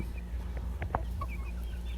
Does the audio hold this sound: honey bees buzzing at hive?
no